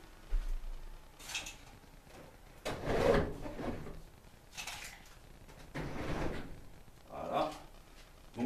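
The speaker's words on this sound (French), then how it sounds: "Je vais fermer un peu les volets pour pas avoir de reflet." Window shutters being pulled closed indoors: a series of rattling, sliding clatters in several bursts over about eight seconds, fairly quiet and close, with no talking.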